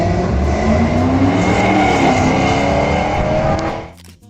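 A 1991 Chevrolet Camaro Z28 drag car roars loudly and steadily at high revs, holding close and dominant for several seconds before cutting off abruptly at the end.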